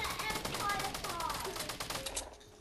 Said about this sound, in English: I shot him as he downed him.